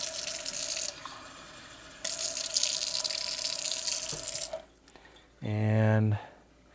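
Tap water runs briefly into a beaker as it is rinsed out, a short close splash of flowing water near the end, with a soft hiss of water and background noise earlier.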